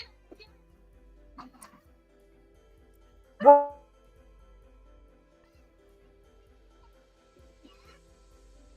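A single sharp dog bark cuts through a quiet outdoor scene, with faint scattered sounds before and after.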